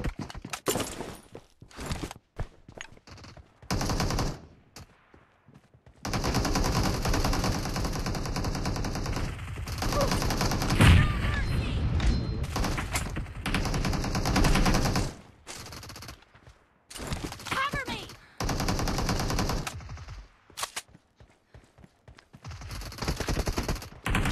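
Bursts of automatic gunfire from the battle royale game BGMI, broken into rapid volleys separated by short pauses, with a long sustained stretch of firing in the middle; loud and close, with no talk over it.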